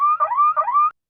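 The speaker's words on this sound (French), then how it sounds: "Vous allez entendre une douce alarme de Merci Félicien" A gentle electronic alarm sound effect of two rising, warbling tone sweeps, played alone on a podcast and stopping abruptly after about a second.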